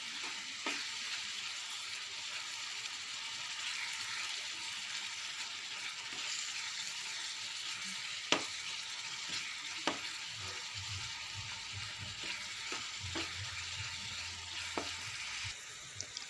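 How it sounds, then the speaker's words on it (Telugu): Ginger garlic paste sizzles steadily in a pan for a shrimp and sorrel curry, a continuous close frying hiss with occasional sharp pops and light stirring clicks, no talking. "అల్లం వెల్లుల్లిపాయ పేస్ట్ పచ్చి వాసన పోయేంత వరకు వేగించుకోవాలి"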